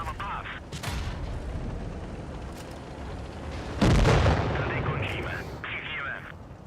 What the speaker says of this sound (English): There's a lot of things shooting at me.